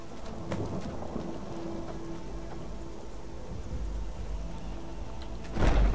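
Rumbling thunder and crackling rain-like noise fill a Skyrim battle as a lightning bolt destruction spell is cast, with a low sustained roll and a sharp crack near the end.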